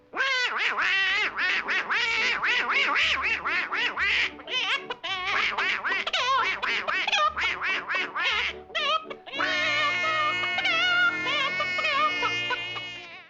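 A voice imitates Donald Duck, quacking in rapid, squawky bursts, then drawing out a longer warbling sing-song quack, close and loud with no other sounds.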